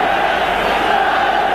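A capacity crowd of 54,000 roars steadily at a 1985 Manchester United vs Liverpool football match, a dense, unbroken stadium wash of noise without clear peaks.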